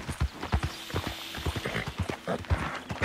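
Horse hooves clip-clop steadily in Red Dead Redemption 2, a brisk, close, regular gait with occasional faint snorting and no talk.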